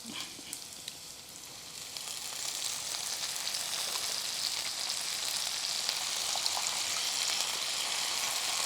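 Washed moringa leaves dropped into a hot pan with fried onions, giving a steady broadband sizzle that swells slightly and holds loud and even, with no voices.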